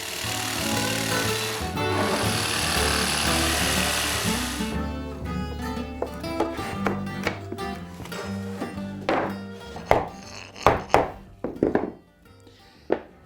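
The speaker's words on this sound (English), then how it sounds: "A jigsaw makes cutting out the notch quick and simple." Jigsaw cutting a notch into a subfloor panel: a loud steady buzzing cut for several seconds, then stops, followed by sharp knocks and clattering as the piece is handled.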